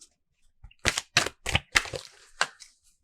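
Cards are shuffled in a quick run of crisp, snapping riffles, about half a dozen sharp bursts close by, with no one speaking.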